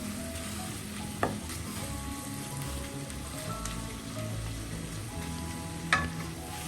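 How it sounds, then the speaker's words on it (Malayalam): Grated radish stir fry sizzles over a medium flame as it is stirred. Steady frying hiss and crackle carry throughout, with two sharp spatula clacks against the pan, one early and one near the end. "എല്ലാം കൂടെ ഒന്ന് ഇളക്കി മീഡിയം ഫ്ലെയിമിൽ ഒന്നും കൂടെ ഫ്രൈ ചെയ്തെടുക്കാം."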